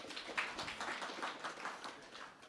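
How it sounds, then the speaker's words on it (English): An event audience applauds the sponsors at a Denver 2024 product launch. Soft, continuous applause with many overlapping claps is heard at a modest distance, steady throughout with no talking. "Let's give a round of applause to the sponsors that helped make this all happen."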